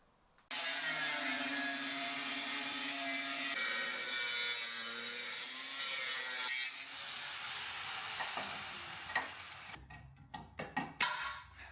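A saw cuts through the horns of a V10-swapped Lincoln Continental in a garage, steady loud rasping strokes that shift pitch midway, then break into scattered knocks and clatter as the cut finishes.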